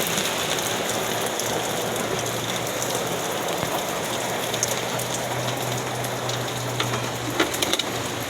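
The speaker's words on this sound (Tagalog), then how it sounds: "lakas talaga ng rain" Heavy rain pours down in a steady, dense, loud hiss of drops drumming on surfaces, with a few sharper taps near the end and no voices.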